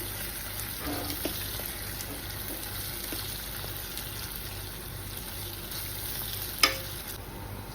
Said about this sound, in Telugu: చెక్క, లవంగాలు, మిరియాలు ఇదంతా కూడా ఫ్రై చేసుకోవాలి.